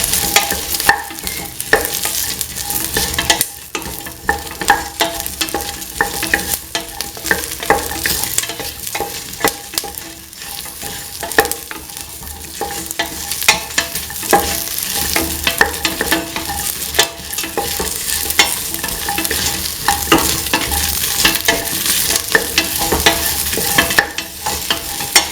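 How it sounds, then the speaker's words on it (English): Lentils and bell pepper sauté in a pan with a steady, dense sizzle, broken by frequent scraping and stirring clatter that keeps a close, even loudness throughout with no voices. "Keep on sauteing."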